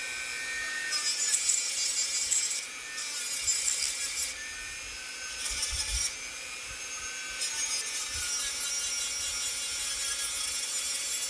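A carved wooden stump is sanded with 150 grit sandpaper, producing bursts of bright, raspy scratching in strokes of a second or two separated by short pauses, close and steady, with no talking.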